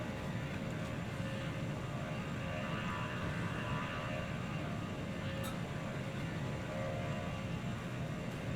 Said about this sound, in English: power up the engines